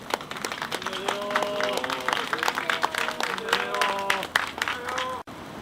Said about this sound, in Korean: 우리 지성 아버님 나오실 때 박수로 환영해 주시기 바랍니다